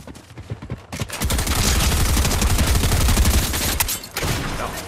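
Rapid gunfire from a shooter video game, a dense sustained burst of automatic shots that runs nearly the whole time, loud and close, briefly dropping out near the end before resuming.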